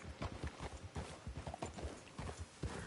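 Hooves of a galloping horse in Red Dead Redemption 2 thud in a fast, steady clip-clop rhythm close up, running continuously through the short stretch without speech.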